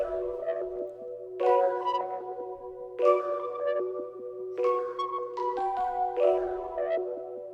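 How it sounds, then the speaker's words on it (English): A simple bell melody of clear, ringing tones, repeating a short pattern in four phrases over a steady low sustained tone, played alone. "Very first part of the melody that I added in, it's just a bell and it's a really simple pattern"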